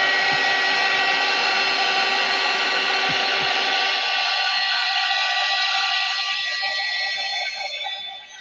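A heat tool or dryer blows with a loud, steady whooshing hum while drying a craft project, running continuously and tapering off slightly at the end.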